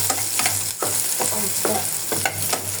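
Beef sizzling and frying in a pan as it is stirred, with a steady loud hiss and repeated scraping strokes about every half second.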